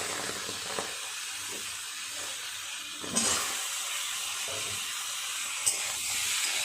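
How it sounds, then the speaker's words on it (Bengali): Ridge gourd, pointed gourd, tomato and potato frying in a pan, a soft continuous hiss with faint stirring and a couple of small clinks. "আর একটু নেড়ে চেড়ে ভেজে নেবে সব কিছু।"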